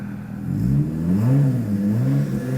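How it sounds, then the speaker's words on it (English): A Rocky Ridge Jeep Wrangler engine is revved in neutral, idling low then swelling through two or three quick rev sweeps, close by and fairly loud. "put that in neutral and rev that thing for a second"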